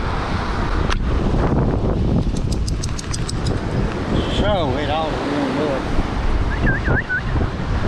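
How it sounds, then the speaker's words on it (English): Ocean waves driven by a south wind roar at Pensacola beach in Florida, a loud, constant rush with heavy wind buffeting the microphone, while a person talks over it. "This is south wind blowing these waves."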